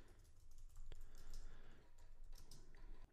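Code is typed on a computer keyboard in quick, quiet, irregular runs of soft key clicks, close by and with no one talking.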